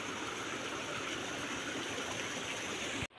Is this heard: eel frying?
no